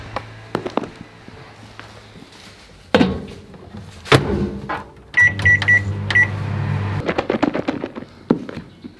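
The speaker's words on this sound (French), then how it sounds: "Et ensuite, on met au micro-ondes." A microwave oven heating small pieces of turkey, with door clunks and thuds, a steady low running hum, and a few bright electronic beeps over it, heard close with no speech.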